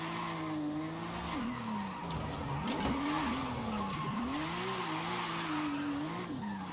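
Pickup van drifting in Forza Horizon 5 on a point drift build, steady engine drone with wavering revs and tire squeal through the whole stretch, with no talk.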